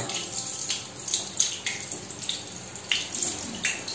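Water runs steadily from a household storage-tank tap into a refill dispenser's new filter, a soft, continuous trickle with faint splashing pulses throughout.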